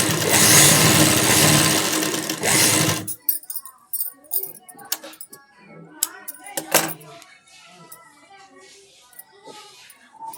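An electric sewing machine stitches the tucks of a 38-inch single katori blouse, running in one dense, steady burst for about three seconds before falling to sparse, quiet handling clicks and rustles.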